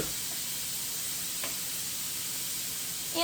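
Meat for Cajun steak sizzles in a pan over medium heat, a dense, even hiss that holds steady throughout and sits close with no voices over it.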